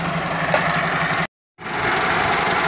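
Massey Ferguson 385 4x4 tractor engine idling steadily with a low rumble, briefly cutting to silence midway before resuming at the same level.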